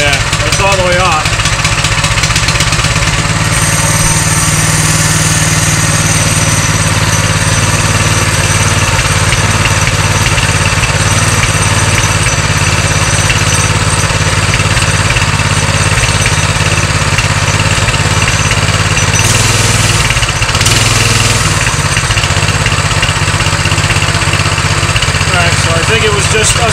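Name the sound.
Coleman BT200x mini bike engine running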